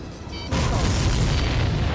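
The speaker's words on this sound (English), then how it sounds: "Did you see that explosion?" Shot-down supply ship exploding in the jet combat game Ace Combat 7: Skies Unknown, a sudden loud boom that breaks out after a brief quieter moment and rumbles on as sustained roaring blast noise.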